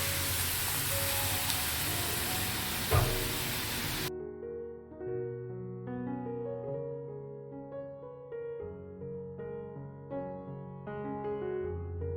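Sev dough fries and foams in hot oil with a loud, dense sizzling hiss for about four seconds, then cuts off abruptly into music.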